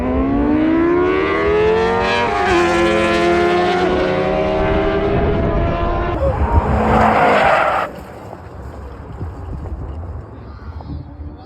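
A Ford Mustang skids at a drift event, its engine howling and rising in pitch as tires squeal loudly. The noise cuts off abruptly near the end, leaving a quieter outdoor background.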